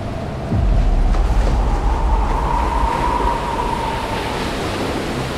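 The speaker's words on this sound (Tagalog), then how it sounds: "parang nagingit-ngit din ang dagat sa malalakas na alon na humahampas sa dalampasigan" Heavy surf rolls in continuously with a deep, steady roar, waves breaking close by with a rushing wash and wind over the water.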